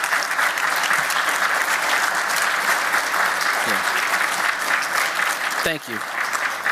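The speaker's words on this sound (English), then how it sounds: "let's give them a round of applause" A dense, steady round of applause from an awards-ceremony audience honoring judges and reviewers, with a few brief spoken words rising above the clapping near the end.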